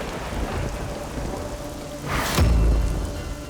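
Torrential rain pours down in daytime darkness, a dense steady hiss, until a loud close thunderclap cracks and rolls into a deep rumble near the end.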